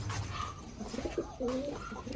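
A pigeon coos softly a few times inside a house, low and throaty, over a steady background hum.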